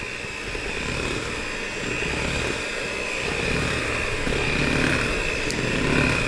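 Electric mixer running at low speed, blending sugar cookie dough as flour is added, giving a steady whirring motor drone throughout with no talk.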